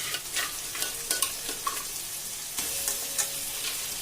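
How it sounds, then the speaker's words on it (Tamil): Crab pieces and shallots crackle and sizzle in a hot pan while a spoon scrapes and knocks through them in short, irregular strokes, close and clear with no talk. "சின்ன வெங்காயம் பக்குவத்துல நம்ம நண்டை சேர்த்துருவோம்"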